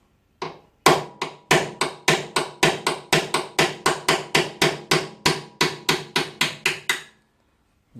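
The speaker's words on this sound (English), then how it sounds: "I'm just going to give it a little tap with a punch, and hopefully it'll free off." Rapid sharp metallic hammer blows on a punch against the steering head lock nut of a GSXR750 motorcycle, about twenty even strikes in a steady rhythm, loud and close, then stopping.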